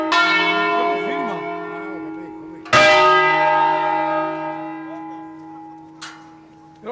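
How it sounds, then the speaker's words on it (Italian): Bell ringers play church bells by hand at a solemn Christmas concert in a parish church near Brescia, Italy. Sustained ringing tones are broken by one loud fresh strike partway through and a fainter clang near the end, with faint voices present. "Però prende solo le campane."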